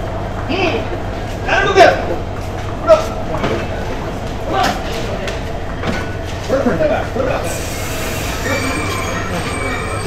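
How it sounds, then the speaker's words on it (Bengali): A train pulls out of Feni Junction with a low rumble and clattering carriages running beneath people talking nearby. "এই যে ট্রেন ছেড়ে দিল ফেনী জংশন থেকে"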